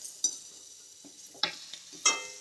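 A spoon works turmeric, red chili powder and vegetables around a pan for veg pasta, giving a handful of soft, spaced scrapes and light clinks over a quiet background.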